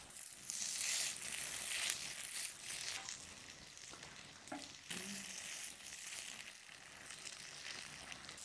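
Jute leaf and sesame fritters fry in a pan with a steady close sizzle, broken by occasional stirring and scraping noises, with no one talking.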